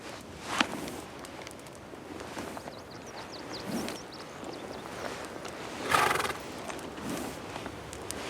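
Wild American mustang horses in Wyoming move about, with a few hoof clops and footfalls and brief snorts or whinnies at a moderate distance over a steady outdoor hiss.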